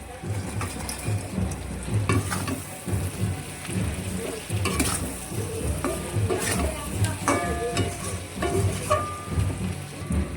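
Meat fries in a pan with steady sizzling and crackling, broken by bursts of stirring and scraping, close and moderately loud throughout.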